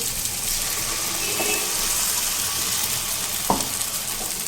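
Onion puree and spices frying in a pan for a gravy of taro root, a continuous close sizzle with a brief clink of a utensil near the end.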